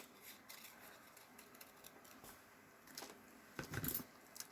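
Paper flowers being cut with scissors, quiet snips and rustles spread through the stretch, with a louder burst of cutting and paper handling near the end; no voices.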